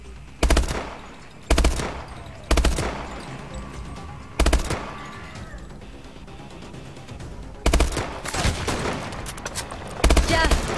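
Bursts of automatic and single gunfire from the futuristic shooter game Call of Duty: Advanced Warfare, loud and close, coming in repeated sharp volleys every second or two over a continuous battle din.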